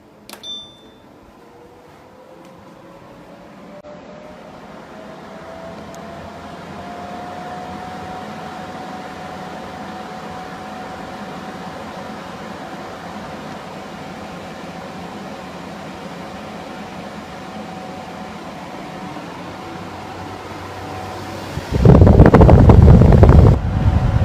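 A Winix 6300-2 air purifier runs its fan in turbo mode, giving a steady airy whoosh with a faint whine rising in pitch. It ends in a sudden loud rush of air close to the microphone.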